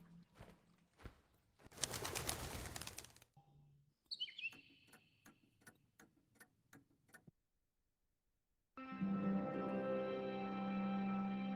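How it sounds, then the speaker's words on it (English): Bird singing in the Colossal Cave video game, short bright chirps and rapid tweeting bursts between other game sound effects, with a steady tonal loop starting near the end; no speech. "A cheerful little bird is sitting here singing."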